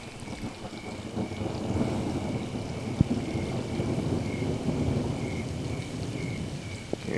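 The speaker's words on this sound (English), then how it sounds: "Raining pretty good." Steady heavy rain pours down at a truck campsite during a stormy night, with a sharp thunder crack near the three-second mark and another brief crack toward the end, all under a constant broadband hiss.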